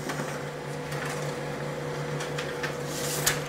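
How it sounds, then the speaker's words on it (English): A Brother printer running a print job, a steady mechanical whir with a constant low hum and faint clicks and rustles of paper feeding near the end. "So I'll select Best and then press Print. It takes only a few seconds."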